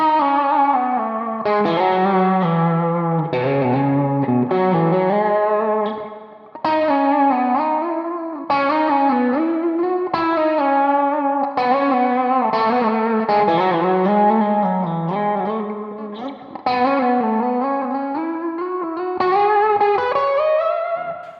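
Electric guitar solo with wide, shaking finger vibrato, played with the middle finger: a sustained lead line of bent, wavering notes through distortion and chorus effects, loud and continuous, with no talking.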